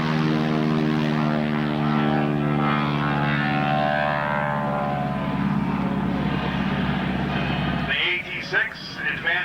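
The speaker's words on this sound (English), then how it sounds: "600 horsepower radial engines in your ears. And the sound of those prop tips turning supersonic pretty nice too." Harvard warbird propeller plane with a 600 horsepower radial engine passing over at an airshow in Geneseo, New York: a loud, droning engine roar with buzzing prop tones that shift in pitch as it goes by, with crowd noise near the end.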